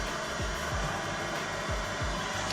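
Heat gun warming headlight tint film on a 2017 Dodge Challenger, a steady blowing whoosh held at even level throughout with faint low knocks.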